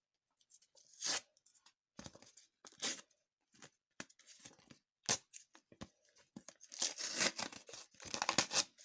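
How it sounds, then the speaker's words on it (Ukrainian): Close, quiet crinkling and tearing of a small paper packet, in short bursts with pauses, getting busier toward the end. "І давайте відкриємо пакетик."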